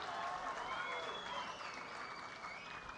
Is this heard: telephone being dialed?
no